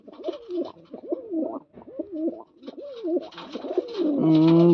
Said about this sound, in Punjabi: ਸੱਤ ਕਬੂਤਰ ਨੇ ਸੱਤ ਹੀ ਕਬੂਤਰੀਆਂ ਨੇ